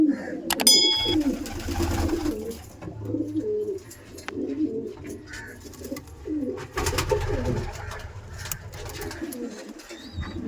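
Kaldom and Laldom pigeons in a loft coo in low, rolling overlapping calls, close and steady, with a few sharp clanks and bits of rustling around them.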